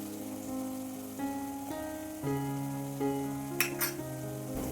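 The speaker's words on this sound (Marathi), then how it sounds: "हा कांदा तेलामध्ये छान परतून घ्यायचा आहे।" Chopped onion softening in hot oil in a pan for a Konkan-style raw jackfruit vegetable dish, giving a steady close sizzle with a short scrape of stirring near the end.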